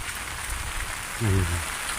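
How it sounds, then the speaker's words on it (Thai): Steady rain falls over a quiet natural fishing spot where someone fishes with a long pole rod, a constant soft hiss with a brief low voice in the middle. "ฝนตกนะครับผม"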